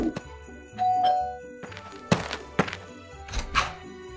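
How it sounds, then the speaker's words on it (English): A cartoon doorbell chimes a couple of times amid thumps and clunks, loud and close, with no one talking over it. "you're the only one that hasn't rung the doorbell yet"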